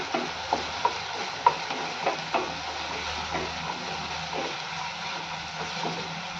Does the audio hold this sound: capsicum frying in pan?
yes